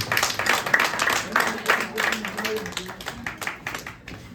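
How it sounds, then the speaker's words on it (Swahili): Church audience applause welcoming a speaker, a moderate patter of many hands clapping nearby, loose and uneven, fading slightly toward the end, with a voice speaking over it. "Karibu, mpigieni makofi mazuri."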